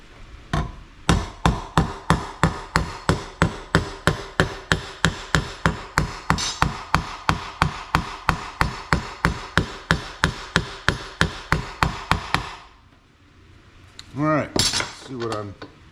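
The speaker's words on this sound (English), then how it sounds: "I am going to hit it with a hammer there a bit." A hammer strikes a metal part for a Jeep Wrangler modification again and again in a steady, quick rhythm, loud and close, before stopping and leaving a brief rustle.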